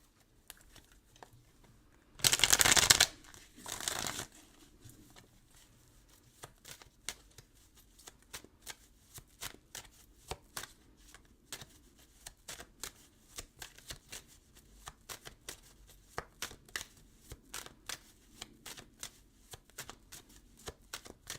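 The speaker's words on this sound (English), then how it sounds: "let's do 3 shuffles real quick" A deck of tarot cards gets two quick bursts of shuffling near the start, followed by sparse soft taps and flicks of cards being handled in a quiet room.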